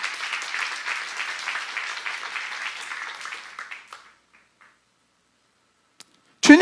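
A church congregation claps together, a dense burst of applause lasting several seconds before fading to near silence, followed by a brief sharp knock at the end.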